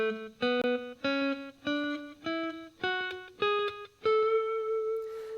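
An electric guitar plays a lick of octave intervals, eight or so distinct plucked notes stepping upward in an even rhythm, each ringing briefly with a bright harmonic tone, played alone and fairly quiet.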